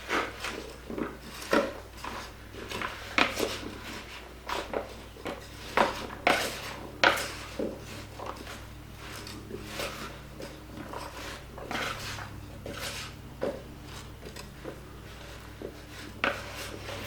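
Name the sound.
stirring chunky potato soup in a pot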